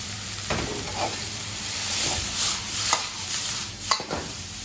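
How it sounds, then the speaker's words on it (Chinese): Shredded zucchini is stir-fried in a wok, a close sizzling hiss broken by scraping strokes of the ladle and a few sharp metallic knocks. "先把角瓜丝炒一下。"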